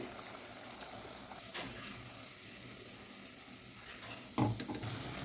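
Onion and potato bhaji deep-frying in hot oil, a continuous even bubbling sizzle heard close, with a brief sharper burst near the end.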